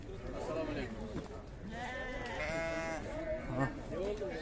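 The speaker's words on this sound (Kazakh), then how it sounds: "Қозылы қой." Ewes with lambs, Arashan breed, at a Sokuluk livestock market bleat in wavering, drawn-out calls, several overlapping, amid steady market chatter as people talk nearby.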